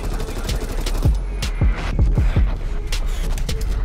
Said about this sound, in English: We're landing some nice headshots this round.